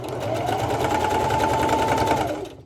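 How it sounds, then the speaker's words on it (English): A sewing machine stitching steadily around the edge of a Christmas stocking, a close, even mechanical whirr with rapid needle clatter that runs without a break and then winds down at the end. "I just sewed all the way around the stocking"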